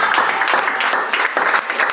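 Audience clapping at a poetry slam in Accra, a dense, steady patter of many hands that carries on without a break for a couple of seconds.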